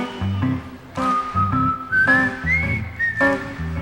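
A person whistles a melody at a live concert, bright rising and falling notes carried over steady band accompaniment, loud and close throughout.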